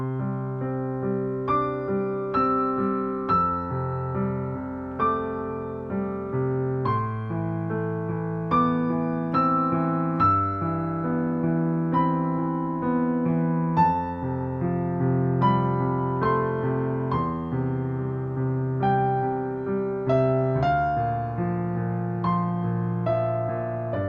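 A relaxing piano piece played with both hands, a gentle right-hand melody over flowing left-hand chords, sustained and steady at moderate volume for the whole stretch with no voices.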